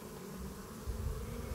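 Honey bees buzz in large numbers around and above the top of a busy beehive, a steady close drone that swells louder partway through, with no talking.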